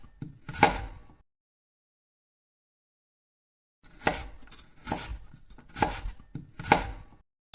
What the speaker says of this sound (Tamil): இப்போ க்ளீன் பண்ண சுரக்காவை சின்ன சின்னதாக கட் பண்ணி எடுத்துக்கலாம்